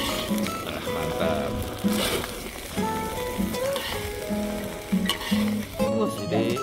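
Goat fried rice sizzling loudly in a pan while being stir-fried, a continuous close frying hiss broken by rhythmic scraping and clanking of the spatula stirring the rice.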